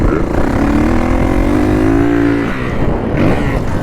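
A 450 dirt bike engine on a dry supercross track, heard as a loud, close, steady drone whose pitch climbs under throttle, then drops off near the end.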